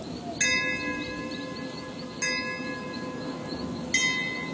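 Three evenly spaced bell strikes, each ringing out and fading before the next, moderately faint over a steady low background hum, with no voices.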